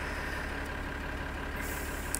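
A tractor engine idles steadily in Farming Simulator 2013, a low, even drone at moderate level with no change in pitch and no voices over it.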